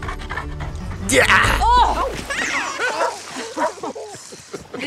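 A dog panting and yipping beside a swimming pool, loud and close, with short whimpery barks and a person speaking briefly over it.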